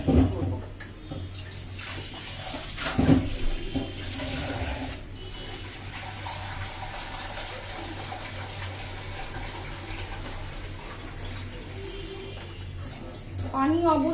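Water slowly added to a pot of bhuna khichuri gives a continuous soft rushing pour with a few clinks near the start, steady and close, while a person talks over it.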